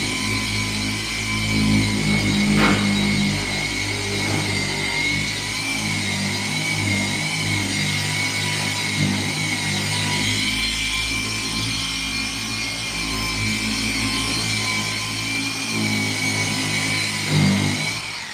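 A car polishing machine works the paint on a car's bodywork, its motor humming steadily and rising and falling as pressure is applied, close and loud with no one talking.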